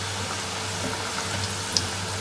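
Khaja dough frying in a pan of hot oil, a steady close sizzle and bubbling that holds evenly throughout with one small pop near the end.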